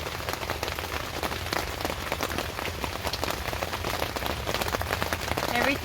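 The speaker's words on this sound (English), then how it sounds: "We're going to have to check back after the rain and see what has happened." Steady, dense rain pours onto a partial-shade garden during a storm, a constant loud hiss of drops hitting leaves and surfaces throughout, with no talk.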